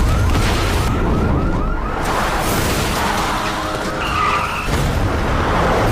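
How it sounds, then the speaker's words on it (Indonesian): Tires squeal and skid loudly through a tense movie car chase between two cars, with engine roar and continuous screeching that rises and falls over about six seconds, no talking. "Adegan kejar-kejaran pun terjadi secara intens, bahkan kita bisa lihat betapa amburadulnya kedua mobil tersebut."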